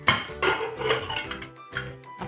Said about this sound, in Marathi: आता आपण झाकण उघडूया कुकरचं